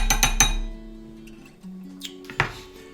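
A bar spoon clinks against a glass while an Old Fashioned cocktail is stirred, with several quick bright clinks at the start, a couple of sharper taps later and ringing tones between.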